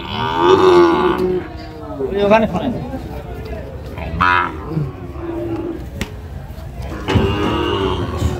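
Cattle, Sahiwal bulls and calves, moo several times nearby, loud drawn-out lows mixed with people talking and a busy outdoor background at a cattle market in Feni.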